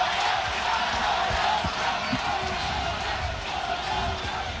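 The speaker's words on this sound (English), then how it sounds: "Roa's effort bringing a surge of noise from the Colombian element in the crowd" A crowd of Colombian fans at a U-23 USA vs Colombia soccer match roars in a sustained surge of cheering and shouting, a broad continuous wash of voices filling the stadium with scattered whoops.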